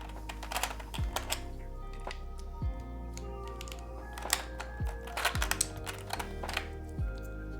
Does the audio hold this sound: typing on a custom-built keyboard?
yes